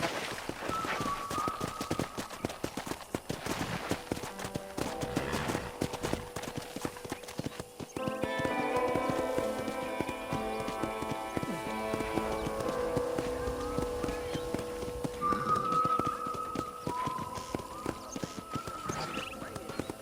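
Steady clip-clop of horse hooves at a walking pace around a ranch in Red Dead Redemption, with a brief whinny, over a continuous game soundtrack of music and ambient tones.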